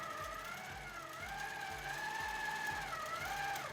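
A QMP 16 sewing machine stitching with its top tension set too tight gives a steady mechanical whir with a rapid, regular needle rhythm. It runs continuously at close range and fairly quietly, with no voices.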